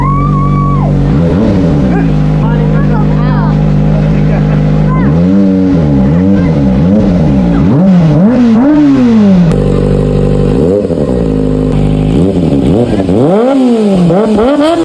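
A Kawasaki ZX25R four-cylinder motorcycle engine is revved up and down close by, with loud, repeated rising and falling bursts over a steady idle.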